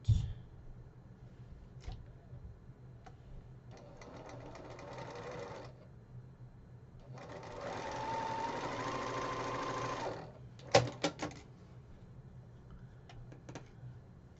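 A sewing machine stitches a Christmas quilt block in two steady runs, the second longer and louder, followed by a few sharp clicks and a quiet close.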